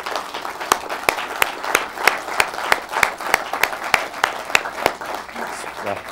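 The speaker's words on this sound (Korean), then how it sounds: "우리 박수나 한번 치고 넘어갈까요?" An audience at a formal televised dialogue between a Korean president and prosecutors breaks into sustained rhythmic applause, many hands clapping in a dense steady wash with sharp regular claps on top, fairly loud and close.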